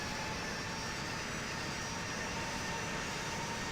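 Airplane taxiing toward the runway in a flight video game, with a steady, even engine drone that holds unchanged throughout at moderate loudness.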